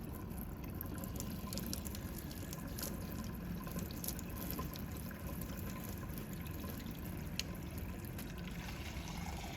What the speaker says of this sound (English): run the warm tap until it is the temperature you take a bath or shower